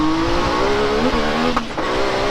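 A Yamaha YXZ side-by-side fitted with a DLP turbo kit runs loud and close, its engine note rising and wavering as it revs, with a couple of sharp pops near the end that fit backfires.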